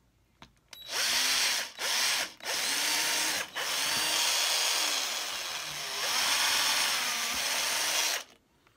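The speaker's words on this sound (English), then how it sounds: "and drill a hole." A power drill bores a hole into an RC truck, whining loudly in several bursts: two short runs, then a longer sustained drilling with the pitch shifting under load before it stops.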